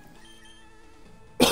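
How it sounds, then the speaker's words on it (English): A single short cough bursts out abruptly at the very end after near silence, close and fairly loud. "I don't know why I've been coughing a lot more lately"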